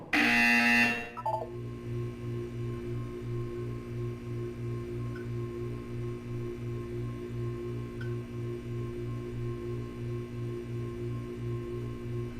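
After a brief loud burst, a low electronic buzzer in Portal 2 pulses rapidly and steadily at an even pace, with no voices.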